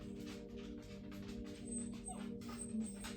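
A pet dog whimpering and yipping softly indoors, faint thin whines in a quiet room with a low hum, no talking.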